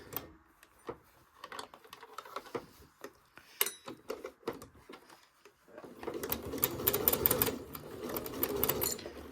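A sewing machine stitches fabric for a scrap-quilted heart mug rug with a quarter-inch seam, first in short hesitant bursts and then in a steady, dense run of rapid needle clatter close by.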